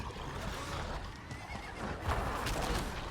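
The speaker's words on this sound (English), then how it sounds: "Come on, let me on the horse." Within the Diablo IV game world, a horse whinnies and its hooves clip-clop along, moderately loud against steady ambient background noise, with no talking.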